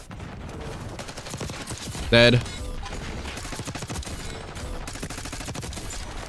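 PDW gunfire in the video game Black Ops 6: rapid bursts of shots over game sounds, with a louder burst near the middle and a voice speaking briefly.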